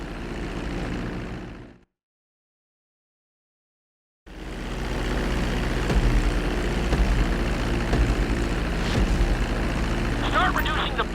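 A plane's engine drones steadily in GTA 5 flight school as the aircraft comes in toward a runway to land. The sound cuts out briefly, then returns as a loud, continuous hum with a voice speaking over it.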